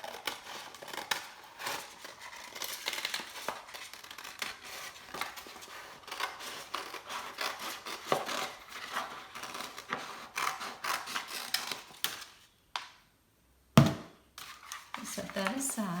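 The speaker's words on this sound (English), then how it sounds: "Grab some scissors. And let's cut away this excess so we don't waste it." Scissors cutting away excess infusible ink sheet for a Cricut tee shirt, a long run of crisp snipping and rustling close by, with a brief pause near the end.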